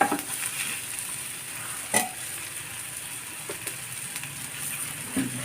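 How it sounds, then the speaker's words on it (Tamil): Eggplant gravy for biryani sizzling in a pan as tamarind water goes in, a low steady frying hiss with a few sharp clinks and scrapes of a spoon, close by and without talk. "இப்போ புளி ஊற்றிடுவோம்"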